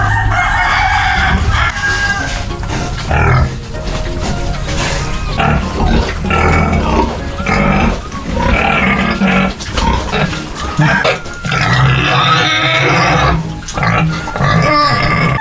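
Pigs grunt and squeal again and again at a rural fiesta in the provinces, loud and close, with chickens crowing and clucking through the mix and only a little background noise.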